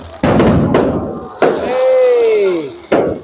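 Fireworks over a street in the Philippines: several sharp, loud bangs spaced irregularly, with a long whistling tone that slides downward between the blasts.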